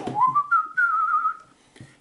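A person whistles a single rising, held tone close by, sliding up and sustaining briefly before stopping, with a short breathy start and no talking.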